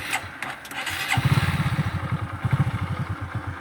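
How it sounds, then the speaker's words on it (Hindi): A motorcycle engine cranks on its electric self-starter with the clutch held in, then catches and settles into a loud, close, steady idle with a rapid thumping pulse. "क्लच को इस तरीके से दबा के उसके बाद आपको स्टार्ट करना पड़ेगा सेल्फ से।"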